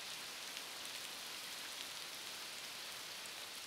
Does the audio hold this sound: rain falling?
yes